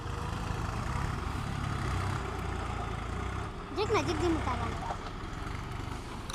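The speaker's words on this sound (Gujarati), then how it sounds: "ट्रैक्टर फंस चुका है और निकलने की कोशिश हो रही है" A stuck tractor straining to pull free, its engine a steady low rumble that dips briefly, with someone speaking over it outdoors.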